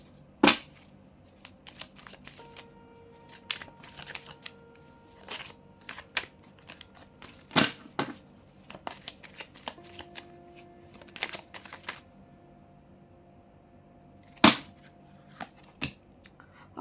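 Tarot cards shuffled by hand in irregular bursts of crisp riffling and sharp slaps, close and clear, over a faint, steady tonal hum.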